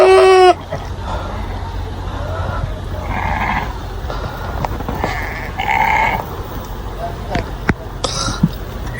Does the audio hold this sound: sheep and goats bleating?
yes